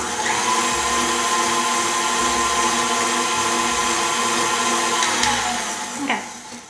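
Electric mixer whirring steadily through blueberry muffin batter, a loud continuous motor drone that winds down near the end, close by and with no talking.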